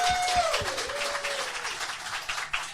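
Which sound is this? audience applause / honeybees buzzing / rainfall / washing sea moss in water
audience applause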